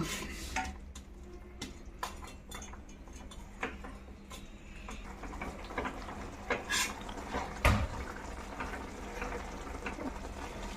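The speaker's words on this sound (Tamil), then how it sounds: "இது நல்லா மிக்ஸ் பண்ணி விட்டுக்கலாம்" A utensil stirs a soaked bread mixture for bread halwa in a bowl, giving soft scraping and light clinks against the vessel, with one louder knock near the end, steady and close without speech.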